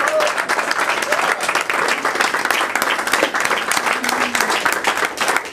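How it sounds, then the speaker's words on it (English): Sustained applause from a party audience at a birthday roast honoring the host's wife Hope, dense steady clapping with crowd noise throughout, loud and close, with a few cheers mixed in. "we should all stand up and give a big round of applause to Jeff's wife, Hope"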